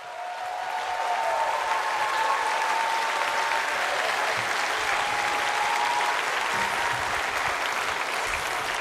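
A church congregation breaks into dense, continuous applause welcoming a missionary to the front, loud and even for the whole stretch with no clear talking.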